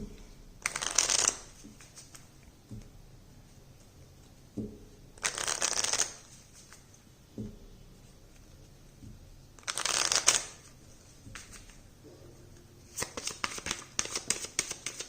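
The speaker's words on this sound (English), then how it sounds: "Now let's pull out a romance angel card for you." Oracle cards, romance angel cards for a card reading, being shuffled in four separate bursts of quick, close riffling flutter, the last one choppier, with quiet pauses between.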